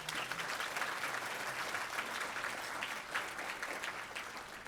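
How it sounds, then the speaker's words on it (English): A crowd at a valor awards ceremony gives the event sponsors a round of applause, a continuous, fairly soft patter of many hands that stays even throughout. "Please help me in giving them a big round of applause."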